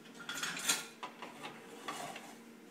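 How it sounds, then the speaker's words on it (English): Dulce de leche being stirred in a pot over low heat, with a utensil scraping and clinking against the metal in a quick run of soft strokes that fades to occasional taps; close and fairly quiet, with no talking. "You want to get something to stir this with."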